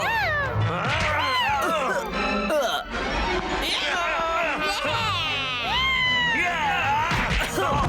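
A cartoon cat meows in a Hindi-dubbed animated comedy, loud cries sliding up and down over busy music, sound effects and overlapping voices, with several yowls spread through the stretch.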